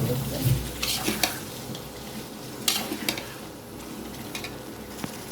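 Rui fish curry being sautéed in a pan gives a steady soft sizzle, with a spoon stirring and scraping in occasional louder clinks against the pan, fairly close and without talk.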